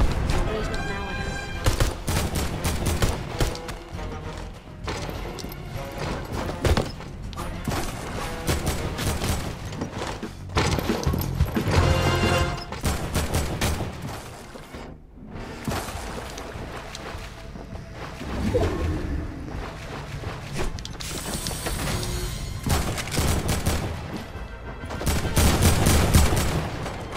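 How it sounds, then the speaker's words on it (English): Gunfire rattles from every direction in a video game, dense bursts of automatic fire and shots layered with booms and thuds, loud and continuous, with a voice talking at times. "I'm being shot at every side."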